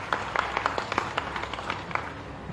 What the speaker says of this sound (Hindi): जोरदार तालियां हो जाएं श्री ए साई मनोहर जी के लिए